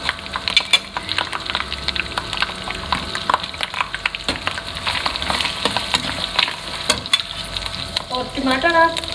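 Onions sizzling in hot oil for keema aloo, with bay leaf in the pan, steady close frying crackle and repeated scraping stirs of a spoon against the pan, no talking.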